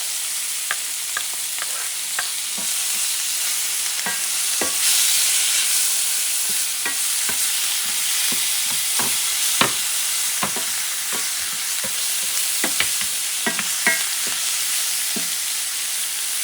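Onions frying steadily in a hot pan for sofrito, a continuous close sizzle broken by frequent short scrapes and clicks of a spoon stirring through the mix, no talking.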